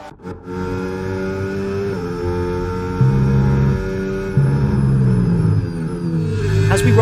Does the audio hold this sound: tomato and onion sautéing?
no